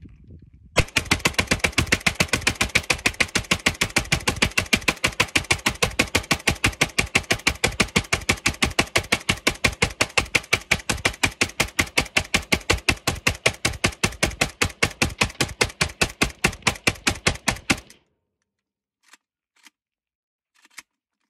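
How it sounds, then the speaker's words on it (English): Mak90 rifle fed from a KCI 100-round drum fires a long, rapid, unbroken string of loud sharp shots for about seventeen seconds, then stops, followed by a few faint scattered clicks. "100 round mag dump or 100 round drum"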